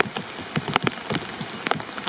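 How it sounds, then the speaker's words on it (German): Summer rain falling on the surface near a bank while bottom fishing, scattered close drops pattering irregularly over a soft steady hiss, fairly quiet and with no talk. "Gut, es fängt stärker an zu regnen."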